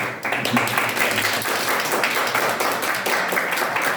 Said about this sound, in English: Please applause to him.